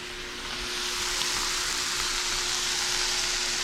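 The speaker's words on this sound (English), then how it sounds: "Letting the meat brown on the bottom at least." Steak browns in a hot frying pan for a steak sandwich, giving a steady, loud, continuous sizzle with no talking.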